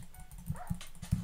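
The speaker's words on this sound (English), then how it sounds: "He has a dog!" Dog in a Minecraft-style survival video game barks in a quick series of short, faint yips with no talking over them.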